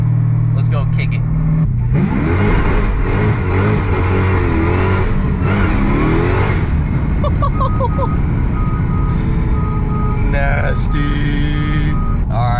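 A 6-speed manual-swapped Hellcat Charger idles, then the clutch is dumped and it roars away loudly, the engine note climbing for several seconds before easing off into cabin noise and short electronic chimes.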